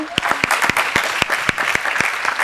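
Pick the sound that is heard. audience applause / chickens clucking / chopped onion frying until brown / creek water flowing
audience applause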